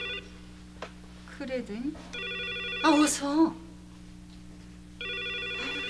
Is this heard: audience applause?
no